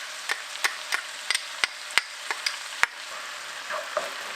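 Garlic goes into a pan of onions, celery and bell peppers frying for smoked and braised oxtails, bringing a steady loud sizzle with a dozen or so crisp clicks of a spoon scraping and stirring against the pan, close up, without any talking.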